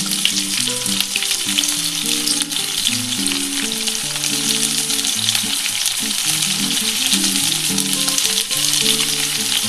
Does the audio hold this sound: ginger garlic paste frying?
yes